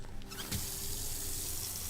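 Water from a lab tap running into a container in the video game Autopsy Simulator, a steady faint gushing stream after a brief start, continuous and alone.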